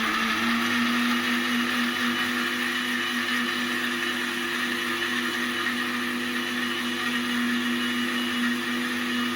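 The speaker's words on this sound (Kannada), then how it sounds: "ರುಬ್ಕೋಬೇಕು ನಾವು ಮಿಕ್ಸಿಯಲ್ಲಿ." A kitchen mixer grinder whirs continuously at high speed while grinding spices and water into a smooth paste for a Karnataka-style bassaru, a loud, steady motor drone with no talking.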